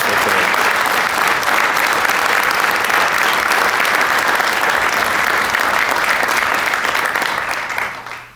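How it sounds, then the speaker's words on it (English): Loud, sustained applause from a large crowd at a firefighter academy graduation ceremony, steady throughout and tapering off at the very end. "Please join us in a round of applause for the families and loved ones who helped make their firefighters successful today"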